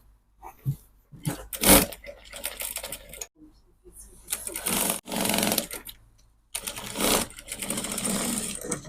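A sewing machine stitches the back neckline facing of a cowl bubu garment with front pleats. It runs in several short, start-stop bursts of varying length, separated by quiet pauses and handling sounds.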